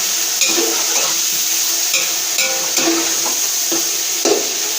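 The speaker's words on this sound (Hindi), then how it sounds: "अच्छी तरीके से इसको इसमें फ्राई कर लें चिकन को" Chicken for a restaurant-style white pulao stir-fries in a pan, a strong continuous sizzle punctuated by regular clinks and scrapes of the spatula against the metal.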